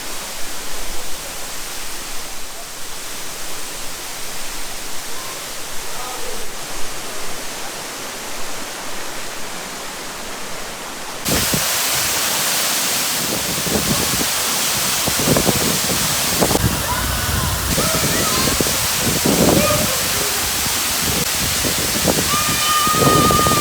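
Rushing water at Erin Ijesha waterfall in Osun State, a steady hiss that starts distant and then swells abruptly into a loud, close roar with splashing bursts.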